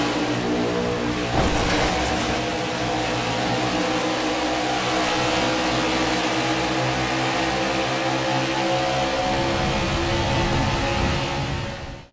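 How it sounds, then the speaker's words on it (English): Race car engines in the NASCAR 21 Ignition video game drone continuously at high revs, a loud, dense, unbroken wall of stock-car engine noise for about twelve seconds with no voices. "cars coming up on your right or left is subtly telegraphed by the sound separation"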